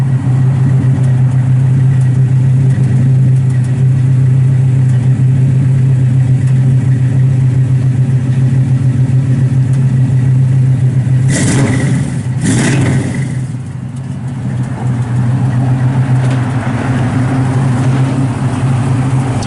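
A 1967 Chevrolet Chevelle SS 396 with Flowmaster mufflers and dual exhaust idles loudly and steadily up close, with a brief rev partway through before settling back to a deep rumble.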